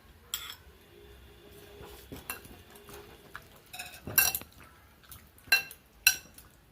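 Fish being mixed by hand with salt and mustard oil in a bowl gives soft, wet squelching and stirring, broken by a few sharp metallic clinks against the bowl, close and fairly quiet.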